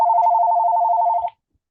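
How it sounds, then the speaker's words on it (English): A telephone rings loudly and close by, one steady trilling burst of rapid pulses lasting just over a second before it cuts off into silence. "I did know that the phone was going to ring."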